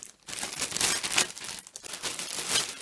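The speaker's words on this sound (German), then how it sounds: "Und dann machen wir eine Tüte in die andere hinein." Sturdy plastic freezer bags crinkle and rustle loudly and continuously at close range as one bag is pushed inside another, with no talking.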